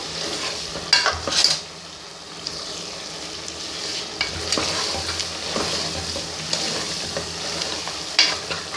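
Meat being stir-fried bhuna style in a home cooking pot gives a steady close sizzle with a few sharp spoon scrapes and clinks against the metal; no one speaks.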